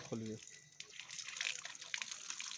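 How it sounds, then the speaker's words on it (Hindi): Water running from a village tap, a steady hissing gush with faint splashing that carries on throughout, with someone talking over it. "आप देख सकते हैं कि किस तरह से इस नल जल में पानी आ रहा है"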